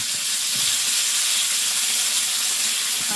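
Bay leaves temper in hot oil with a loud, steady sizzle and hiss, close up and continuous, with no voices.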